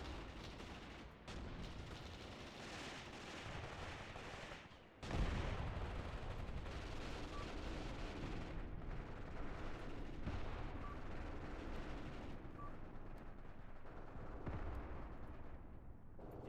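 Rumbling battle noise from the Graviteam Tactics video game: dense gunfire and artillery thuds, fairly faint and continuous, with a sharper blast near the middle and no talking.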